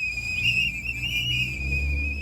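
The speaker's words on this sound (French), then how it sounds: "des sifflets pour alerter tout le voisinage" A whistle is blown on a US neighbourhood street to warn residents of an immigration police patrol: one sustained, shrill, steady tone over a low rumble of traffic.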